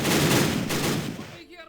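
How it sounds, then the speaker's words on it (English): Rifle volleys in the WW1 strategy game Battle Academy, a dense burst of rapid overlapping gunshots that stays loud for over a second, then cuts off into a quiet tail. "I'm going to open fire on these guys right here."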